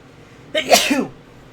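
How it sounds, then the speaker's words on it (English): A single sharp human sneeze bursts out, close and fairly loud, in an otherwise quiet room, lasting about half a second. "Sneeze."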